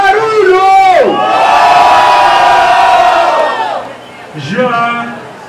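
A crowd at a rap battle final cheers and shouts loudly, sustained whooping and yelling voices that swell, dip briefly, then rise again.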